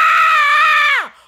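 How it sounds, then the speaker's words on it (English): A man lets out a single loud, sustained scream lasting about a second, holding one strained pitch before it bends downward and cuts off into silence. "This yelling and screaming"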